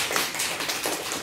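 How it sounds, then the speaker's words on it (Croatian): An audience applauds at a kindergarten recital held for Bosnia and Herzegovina's Statehood Day, a dense, steady wash of clapping heard alone. "Pozdravimo ga velikim aplauzom."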